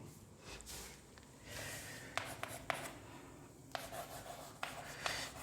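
Marker or chalk writing a line on a board during a chemistry lecture, soft rubbing strokes with several sharp taps and squeaks spaced irregularly, close and faint in an otherwise quiet room.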